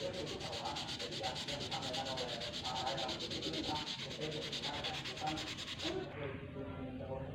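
Steady, continuous rasping of 400-grit sandpaper polishing a wooden keris sheath, a rhythmic back-and-forth scratch close by that cuts off sharply near the end.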